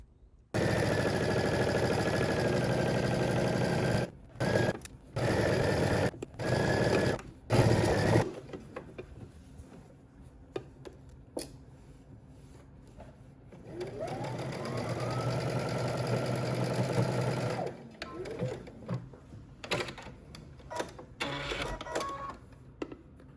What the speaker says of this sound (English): we're going to head to the sewing machine and stitch this in place using 5/8 of an inch seam allowance